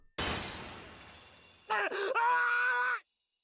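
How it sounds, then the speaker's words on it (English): Glass shatters with a loud, bright crash from the Chaos;Child video game, a sharp burst that fades away, then a strained, groaning tone sustains underneath before cutting off. "Suddenly a sound like shattering glass traveled from my ears to the rest of my body."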